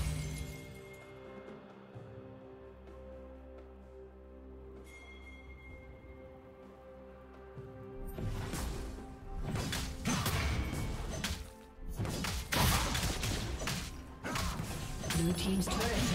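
Turret destroyed in League of Legends, a quiet ambient stretch giving way to loud crashing, crumbling and smashing impacts that come in repeated bursts over the final half.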